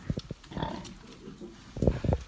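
Fifteen-day-old piglets on a farm give short, low grunts in quick clusters, loud and close, with quieter snuffling between the bursts.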